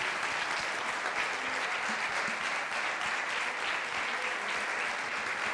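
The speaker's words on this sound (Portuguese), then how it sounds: "Vamos aplaudir o Senhor dos senhores" A church congregation at a missionary conference applauds continuously for several seconds, a dense, even wash of many hands clapping with no let-up.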